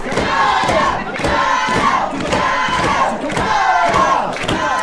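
A wrestling crowd at an MWF Saturday Night show roars and cheers continuously, a loud, dense wall of voices with surging rhythmic swells, like chanting, about once every second.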